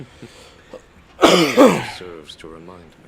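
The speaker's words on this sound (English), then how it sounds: "That was a cough." A single harsh cough bursts out loud and close, followed by a person speaking.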